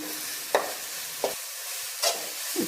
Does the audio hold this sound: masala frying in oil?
yes